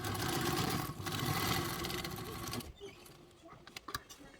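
Sewing machine stitching a crescent-shaped bag, running in a steady loud whir for about two and a half seconds, then stopping, leaving a few faint clicks and handling sounds.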